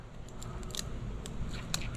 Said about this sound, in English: just gonna take my scissors and his eyes, mouth, face right there, just gonna cut them off.